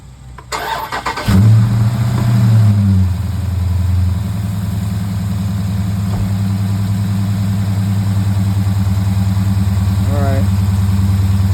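A Dodge Challenger with a shaker hood cranks over, catches with a loud start and brief rev, then settles into a steady, rumbling idle that carries on to the end of the clip.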